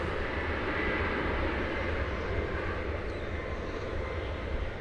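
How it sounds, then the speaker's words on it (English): A Japan Airlines Boeing 777 lands on a runway at DFW Airport, its jet engines making a broad, steady roar that sits at a distance and stays constant throughout. "this flight, this Japan Airlines 777 lands."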